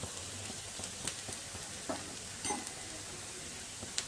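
Lady finger okra fries and is stirred in a pan over low to medium flame, giving a steady close sizzle with a few soft scraping strokes of the spatula and no voices.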